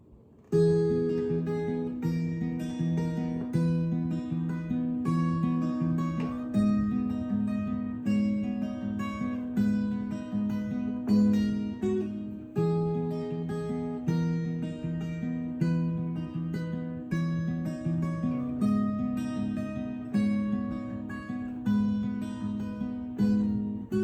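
Acoustic guitar tuned half a step down with a capo plays a bright, repeating picked melody with ringing notes, steady rhythm, close and clear, with no voices.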